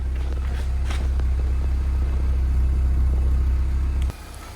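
A BMW E36 316i engine idles after a misfire fix, a loud, steady, even low rumble close by that cuts off abruptly near the end.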